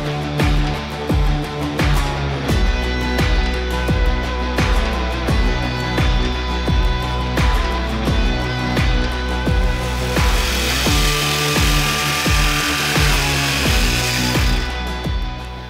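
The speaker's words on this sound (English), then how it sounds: "Once I have traced the pattern, I use a jigsaw to cut the contours." A jigsaw cuts contours in masonite fascia board for a model railroad, its loud buzzing motor running steadily with rhythmic stroke pulses and brief pitch shifts as the blade works through the sheet, with no voices.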